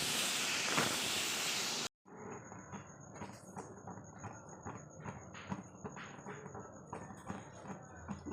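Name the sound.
fish frying in oil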